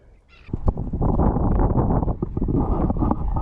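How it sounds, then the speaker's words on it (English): Strong afternoon wind buffeting the microphone on open tidal flats, a loud, continuous rumbling roar that rises sharply after a brief quieter start and holds steady. "It's one of those really windy afternoons"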